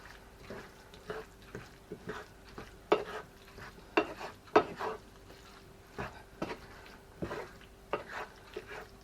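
A spoon stirs bolognese sauce in a pan in an irregular series of close scraping knocks over a low, quiet sizzle.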